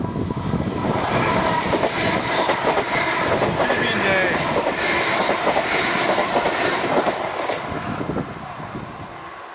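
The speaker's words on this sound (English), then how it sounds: "I've got a train." A train rolls past in Stirling, Scotland, a loud, steady rumble with clickety-clack wheel rhythm holding close throughout before easing slightly near the end.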